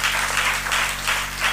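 A church congregation claps in praise of God during a fasting prayer service, a short run of steady, rhythmic clapping filling the room.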